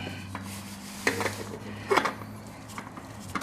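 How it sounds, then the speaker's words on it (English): A metal oil pan scrapes and clinks as it slides out beneath a Honda VTX 1300R motorcycle, with a few sharp close metallic knocks in the middle of the short stretch. "I'm going to kind of slide the oil pan out a little bit"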